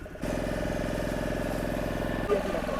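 A motor boat engine chugs steadily at idle, a low throbbing drone that keeps an even rhythm throughout, with trawlers nearby on a river heading toward mangrove forest.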